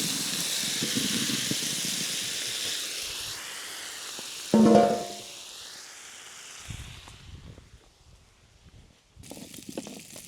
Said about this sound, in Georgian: შიშინი იქნება წყალთან ერთად.